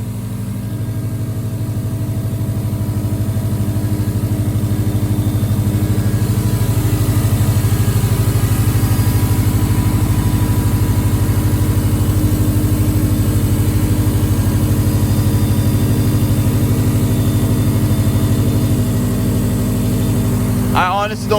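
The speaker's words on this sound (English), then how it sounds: "Let it idle now for a few minutes so the computer could recognize the modifications to it." A car fitted with an axle-back exhaust idles steadily and loudly up close, a constant low droning rumble that holds for the whole stretch.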